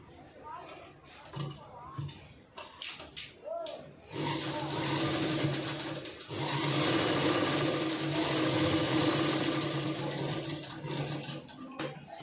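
A sewing machine stitches the front part of a blouse, running steadily and fairly loudly after a few seconds of quiet handling, with one short pause in the middle; no one speaks over it.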